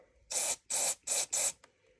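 Four short, loud hissing bursts of liquid cleaner blasted through a hobby airbrush, each about a quarter second long with brief gaps between them, close up and without talk.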